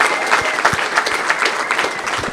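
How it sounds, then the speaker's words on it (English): Crowd at a library and apartments ribbon cutting breaks into a brisk round of applause, dense clapping close by and even in loudness across the moment. "please let's give her a round of applause as well"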